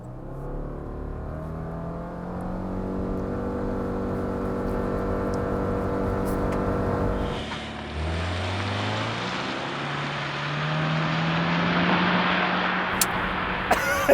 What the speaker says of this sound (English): it's got a CVT that Yuri made sing because he launched